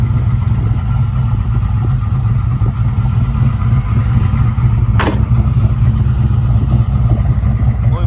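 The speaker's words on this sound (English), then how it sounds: "Awesome sounding dual exhaust." A 1979 Chevrolet Camaro Z28 with a GM crate 5.3 LS V8, automatic transmission and dual exhaust runs close by, a steady deep engine rumble with a brief sharp sound midway.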